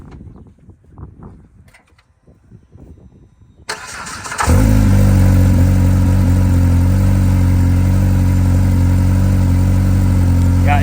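A turbocharged 4-cylinder Polaris RZR Pro R of about 500 horsepower fires up after a few quiet seconds of background sound, then settles into a loud, close, steady idle that drones on to the end.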